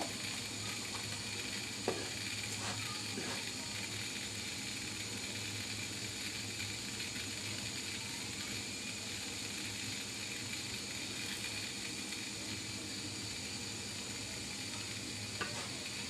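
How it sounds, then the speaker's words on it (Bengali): Egg paratha fries in an oiled pan, giving a steady close sizzle and crackle that runs throughout with no talk, joined by occasional soft scrapes. "পিঠের দুই সাইডে ভালো করে আমি ভেজে নিচ্ছি"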